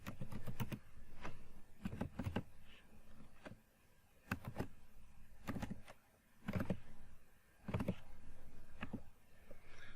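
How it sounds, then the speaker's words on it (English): Typing on a computer keyboard, quiet and close, with short bursts of clicking keystrokes separated by brief pauses. "First, I'll type the first statement,"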